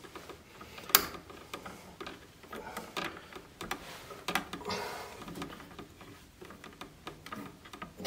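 Metal ground wire screw being cranked down tight in an electrical box, a close series of small clicks and ticks with a sharper snap near the start, over quiet room noise.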